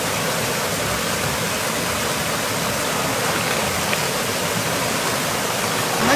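A small stream flows steadily, a continuous broadband rush of running water with no break, close and even throughout.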